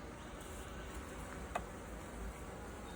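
A soft, steady buzzing of honeybees feeding on candy during queen rearing hums faintly in the background, with a brief tick near the middle.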